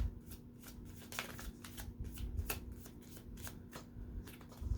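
Tarot cards are shuffled by hand up close, a quiet run of quick riffling and sliding bursts repeating in an uneven rhythm.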